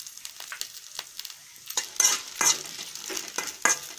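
Ginger and red chillies fry in a pan for ginger chutney, giving a close, steady sizzle broken by repeated scraping stirs of a utensil, with no talking.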